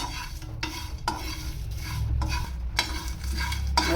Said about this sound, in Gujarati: એકદમ સ્લો ગેસ ઉપર, ધીમા ગેસ ઉપર જ 4 થી 5 મિનિટ આપણે શેકી લેશું।